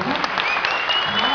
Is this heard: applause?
yes